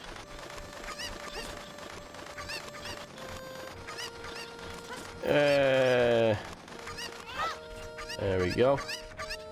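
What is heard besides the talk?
chicken clucking in The Legend of Zelda: Ocarina of Time video game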